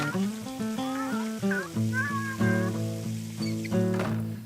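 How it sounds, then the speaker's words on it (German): Cat meowing in The Sims 3, a series of drawn-out, close, loud mews and wavering cries overlapping one another with no pauses. "wo kommt die Katze her?"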